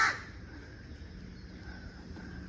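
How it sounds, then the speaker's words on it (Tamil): A crow caws once at the very start, loud and close on a morning, then the call fades into a quiet, faintly humming outdoor background. "காலையிலே காக்கா வர கத்துது."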